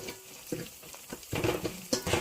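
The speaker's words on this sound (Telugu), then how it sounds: "ఉల్లిపాయలు వేగిన తర్వాత ఇందులోకి పసుపు వేసుకొని కలుపుకోవాలి" Onions frying in a pan with ginger garlic paste and turmeric being stirred in, a spoon scraping and clinking in short bursts over a soft sizzle, growing busier toward the end.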